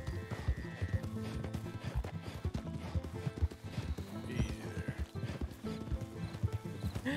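Horse hooves clip-clop steadily in the Red Dead Redemption 2 video game, with a whinny partway through, over music and faint background voices.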